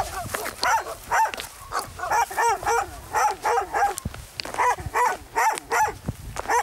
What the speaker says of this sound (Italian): i cani in maniera molto organizzata spostano tutto il gregge a monte